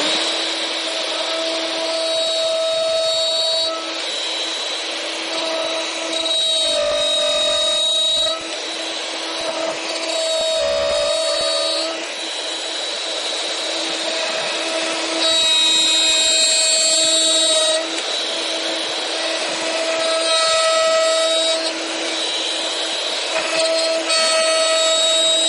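A handheld wood router runs steadily throughout, a loud continuous whine with a rich harmonic edge that wavers slightly as it works, with no talking.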